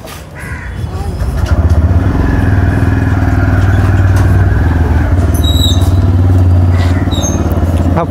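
Motorcycle engine running steadily and loudly while riding in India, a continuous low drone throughout with a brief talking voice near the start.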